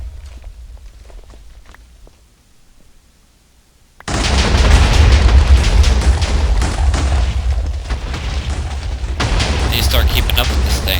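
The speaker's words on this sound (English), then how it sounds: "TNT explosions were always laggy in Minecraft" TNT blows up in the Minecraft video game. After a few quiet seconds, a sudden loud boom gives way to a dense, continuous roar of overlapping blasts that lasts to the end.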